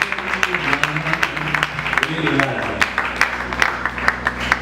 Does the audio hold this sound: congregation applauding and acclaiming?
yes